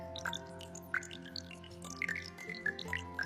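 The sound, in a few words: dripping water tap in a bathroom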